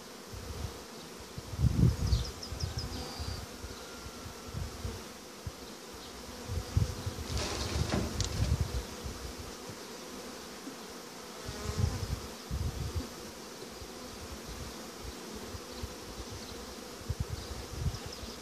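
Honeybees buzz around an open hive while an apiarist works through the frames, a steady layered hum with louder swells as insects pass close, rustling and handling noises beneath.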